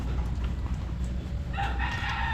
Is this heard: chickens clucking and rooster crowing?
yes